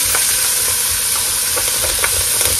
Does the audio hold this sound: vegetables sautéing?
yes